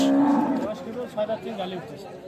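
A Holstein Friesian dairy cow at a cattle market lets out a loud, close moo, followed by quieter grunting sounds.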